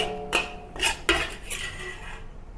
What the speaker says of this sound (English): When it turns aromatic, remove it from the wok.